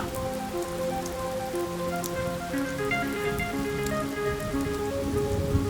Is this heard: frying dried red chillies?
no